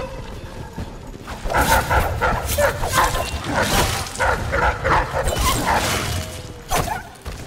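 Dogs bark, yip and whimper in the video game Dishonored, in a dense run of repeated sharp barks over game sounds while someone talks throughout.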